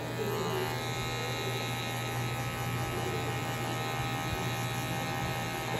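Electric hair clippers fitted with a 0.5 guard, lever set high, buzz steadily and close up while fading a mohawk near the nape, a constant droning hum with no speech.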